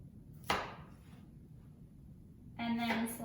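A single crisp knife chop strikes a cutting board as the ends are trimmed off a vegetable for a Mediterranean chopped salad, followed by quiet and then a voice speaking.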